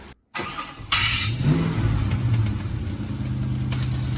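A car being readied for Power Tour has its engine start after a short silence, then it runs at a rough steady idle close by with a faint belt-like whine over the low rumble, with no talking.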